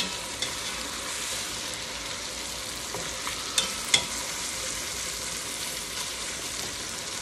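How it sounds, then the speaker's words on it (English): Chicken leg quarters sauté in a pan, giving off a steady, even sizzle and frying crackle with a few sharp spatters and clicks as the pieces are flipped. "I could put the lid on it, but I want you to see it cooking"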